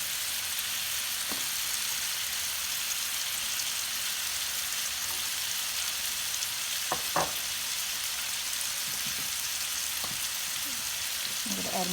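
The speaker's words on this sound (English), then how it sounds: "Turn the stove to medium heat, and we add some garlic." Garlic fries in a pan on a stove at medium heat, a steady close sizzle throughout with a few light clicks from stirring.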